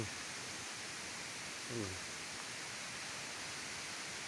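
Huai Mae I, a multi-tiered waterfall, gives a steady, soft broadband rush of falling water heard from a distance, with a brief low voice murmuring partway through.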